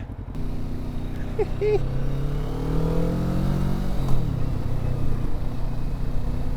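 A cruiser motorcycle being ridden gives a steady, low, throbbing engine drone that holds even throughout, with a voice briefly audible over it.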